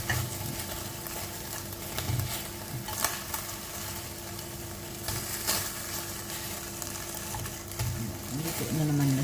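Sliced chicken breast sizzles steadily in a pan, a continuous frying hiss with occasional stirring scrapes, a voice speaking briefly over it.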